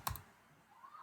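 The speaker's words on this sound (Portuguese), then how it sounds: "E um triplo clique, eu seleciono o parágrafo" A computer mouse gives two quick, sharp clicks in rapid succession while selecting text in Microsoft Word, then near silence.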